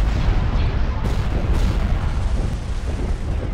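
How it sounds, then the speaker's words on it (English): Rockets launch and strike targets in a Star Wars space strategy game, a dense run of overlapping booms and blasts under a steady rumbling bed, loud and continuous throughout. "Yes, look at all those rockets going in."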